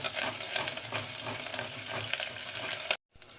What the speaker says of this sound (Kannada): ಹಸಿಮೆಣಸು, ಸರಿಯಾಗಿ ಫ್ರೈ ಆಗೋದು